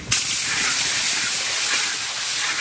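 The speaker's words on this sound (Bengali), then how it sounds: "পেঁয়াজ আমাদের সুন্দর ভাজা হয়ে গেছে।" Onions frying in a pan for stingray curry, a loud, steady broadband sizzle that starts abruptly and holds without pause, close up with no talking.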